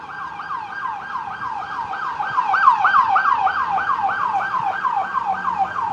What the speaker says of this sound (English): this ambulance driving me crazy